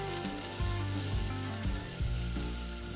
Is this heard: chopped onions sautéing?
yes